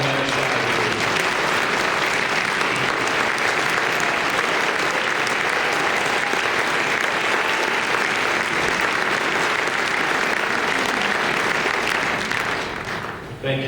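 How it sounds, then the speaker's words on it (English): Sustained applause from a conference audience at a health centers association opening session, honouring recent retirees, a dense, even roar of clapping for over ten seconds before it tapers off at the end. "We'd like to give you a round of applause."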